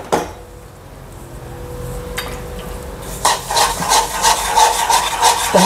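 A spoon stirs sugar into banana sheera in a pan at home, giving scraping, rubbing strokes against the metal that start faint and grow into loud rhythmic scrapes in the second half.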